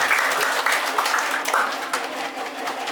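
A crowd at a children's English camp applauds steadily for a few seconds, dense clapping at a fairly loud level that tapers slightly toward the end.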